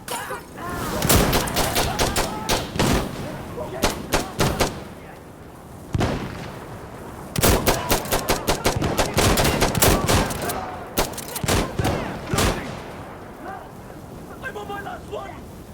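Gunfire from the tactical shooter Insurgency: Sandstorm crackles in rapid bursts of loud, sharp shots with short pauses, mixed with shouted voices during a firefight.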